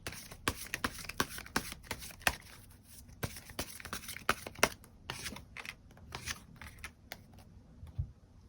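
Tarot cards being shuffled and drawn by hand, a quiet, close run of quick papery snaps and riffles in irregular bursts with no voice.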